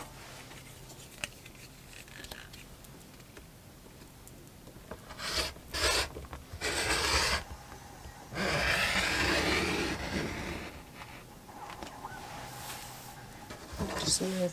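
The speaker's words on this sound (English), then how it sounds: "Okay, so I'm just going to cut off the extra." Scissors cutting extra fabric off quilt strips, a few rasping snips and rubbing bursts over quiet handling, with a voice talking faintly.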